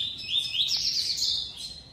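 A single double-collared seedeater sings a quick, bright run of high whistled notes, clear but fairly faint against a soft background hiss.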